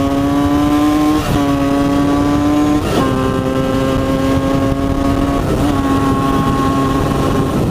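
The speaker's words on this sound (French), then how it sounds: "On va vous faire une petite accélération quand même." A Derbi 70 Airsal moped accelerates hard, its loud, buzzing two-stroke engine climbing in pitch through several gear changes, each marked by a brief dip before the whine rises again, close up.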